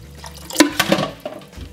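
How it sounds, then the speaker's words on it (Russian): Purified water splashes and pours in short uneven bursts into a soup pot, fairly close and loud, with no talking. "Очищенной воды добавляем 1 литр."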